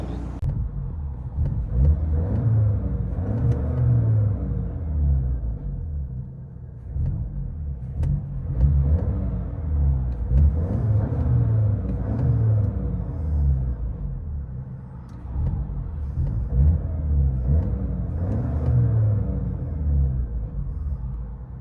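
Steady low engine rumble from inside the cabin of a 2018 Audi A3 S-Line 2.0L turbo with straight-pipe exhaust, a continuous muffled drone with mild swells as it cruises, with no talking.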